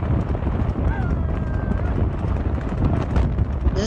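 Horse hooves clop steadily on a road, with wind noise and a brief whinny-like tone in the background.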